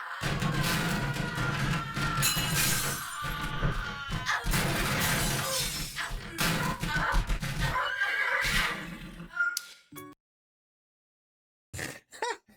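Horse neighing in a Wii girls' video game, a loud whinny with crashing, shattering game effects over busy music, ending in a short silence then brief sounds.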